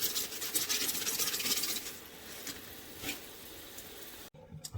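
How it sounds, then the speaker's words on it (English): Collard greens being washed in a sink of water, a close, steady scrubbing and splashing rustle that tapers off, ending with a brief cut to near silence and faint knocks. "I've washed off one set of greens"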